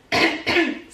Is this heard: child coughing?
yes